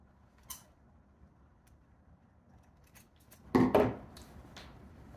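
Sewing scissors snip the corners of fabric facing near a zipper, giving a couple of sharp, close cuts, one faint early and a louder double snip later, in an otherwise quiet room.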